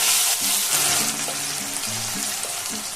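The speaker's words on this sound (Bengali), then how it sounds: "এখন দিয়ে দেবো টমেটো, যে বাটলাম এইমাত্র সেই টমেটোটা দিচ্ছি।" Ground tomato hits a hot pan and sizzles loudly, a continuous bright frying hiss with light stirring scrapes and no talk.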